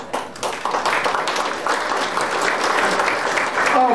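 An audience at an evening presentation bursts into sustained applause, a dense wash of many hands clapping that holds steady and swells slightly toward the end, with no talk over it.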